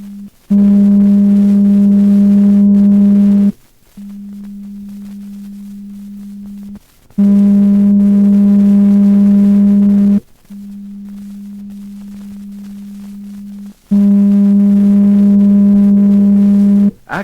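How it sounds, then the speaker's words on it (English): A steady 200 Hz pure tone at one pitch, played in alternating loud and soft bursts: three long loud tones with quieter ones between, separated by brief silences. "Actually, both tones have the same frequency, 200 cycles per second."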